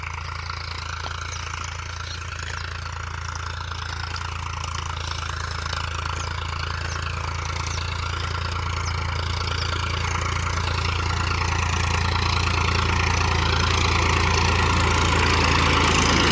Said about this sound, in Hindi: देखो, ट्रैक्टर आ रहा।